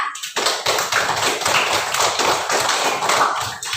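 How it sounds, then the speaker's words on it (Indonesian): A class of students applauding together, a dense burst of close, loud clapping that starts abruptly and continues steadily before tapering off. "Oke, aplaus untuk kita semua."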